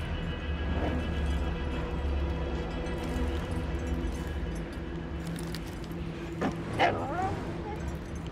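A dog in Far Cry New Dawn yips, barks and whimpers over low ambient game noise, with a person talking nearby and a couple of sharper yelps toward the end.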